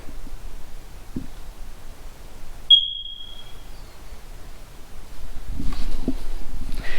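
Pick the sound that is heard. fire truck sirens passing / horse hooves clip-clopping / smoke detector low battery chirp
smoke detector low battery chirp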